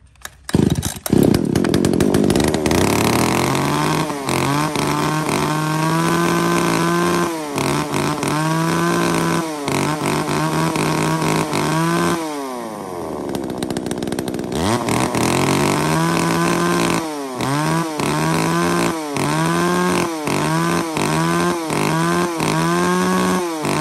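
Used Japanese chainsaw started and running, loud and close, with a pulling start followed by a steady engine drone broken by repeated throttle revs and one long dip and climb in RPM.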